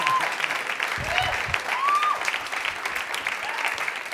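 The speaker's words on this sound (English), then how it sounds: "Clap it up for Mark Stetson" A comedy club crowd at Comix claps for comedian Mark Stetson, moderate steady applause with a few whoops rising over it.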